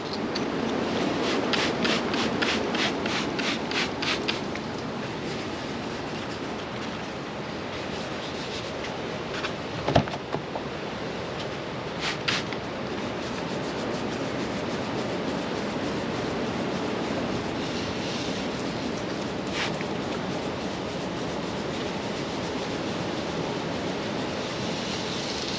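Steady wet scraping and hissing of abrasive cutting on car paint with water, continuous and close, with a couple of brief sharper ticks partway through.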